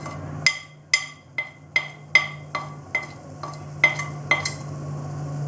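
Turmeric powder frying in a pan for a Bengali fish kofta curry, stirred with about ten sharp, evenly spaced scrapes and clinks of a spoon against the pan over a low steady sizzle.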